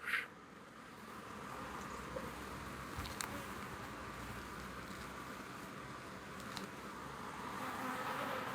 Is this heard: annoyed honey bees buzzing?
yes